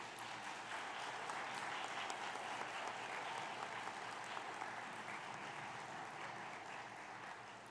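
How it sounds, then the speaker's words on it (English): Graduates at a 2023 graduation ceremony stand and applaud their supporters, a broad, sustained wash of clapping from a large crowd in a big hall, heard at a moderate distance and tapering slightly toward the end. "Please rise and applaud all the supporters that have helped you get here."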